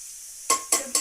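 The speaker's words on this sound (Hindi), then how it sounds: "ये मैं देसी घी में आज इसको तड़का लगा रही हूँ।" Rice with peas is tempered in desi ghee in a pan, three sharp bursts of sizzling and stirring clatter following one another after a quiet start, close and without talk.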